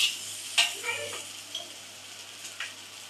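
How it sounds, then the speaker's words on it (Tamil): Maggi noodles being stirred in a pan while they fry, giving soft scraping stirs and a light sizzle, with a couple of sharper utensil knocks against the pan, fairly quiet and close, no talk. "நல்லா கிண்டிக்கணும்."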